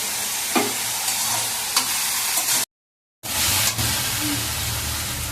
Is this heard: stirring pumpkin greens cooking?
yes